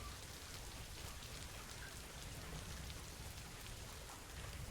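Steady rain in the video game Planet Zoo falls as a dense, even hiss with scattered drop patters, continuous and fairly faint, with no voices.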